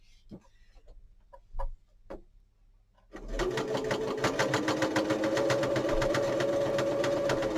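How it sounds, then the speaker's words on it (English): A few faint taps and clicks, then a sewing machine starts up and runs steadily through extra layers of fabric and bias binding, a close, rapid mechanical rattle with a regular stitching rhythm. "you'll probably hear the difference in your machine as it goes through the extra layers of fabric"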